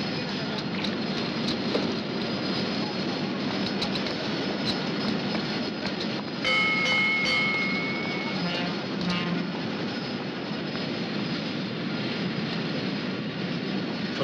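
An express sleeper train bound for Luxor and Aswan sits at a station platform, giving a steady low rumble with brief tonal squeals and clanks partway through, continuous and fairly close.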